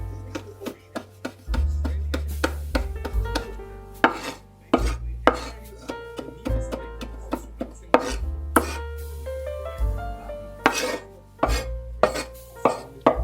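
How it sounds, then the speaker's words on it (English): A knife chops lemongrass finely on a cutting board in rapid, steady strokes, each a sharp close tap, keeping up an even rhythm for over ten seconds with no talking. "Lemongrass, finely chopped."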